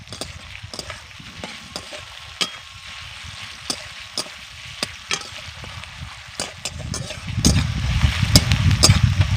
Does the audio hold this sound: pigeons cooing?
no